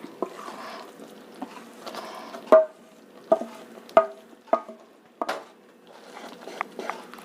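Roasted flour being stirred into a burfee mixture in a pan, heard as intermittent scraping and light knocking strokes with soft sizzling patter between them, close and moderately quiet.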